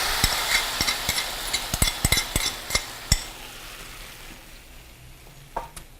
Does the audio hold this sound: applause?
no